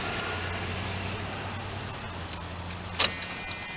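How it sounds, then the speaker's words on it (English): A car key slides into an old car's ignition with a brief metallic jingle and click near the end, close and clear over a steady low background hum. "Put the key in the old ignition here."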